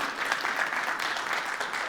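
Audience applause at a medical conference on diabetes management, a continuous wash of many hands clapping at moderate loudness, steady with slight swells and no talk over it.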